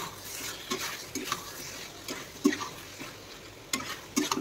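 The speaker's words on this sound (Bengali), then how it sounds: "আমি দিয়ে দেবো ধনে পাতা। এটাকে কিন্তু নাড়ব।" Curry with coriander leaves being stirred in a pan, with soft intermittent scraping and clinks of the spoon over a light sizzle, close by.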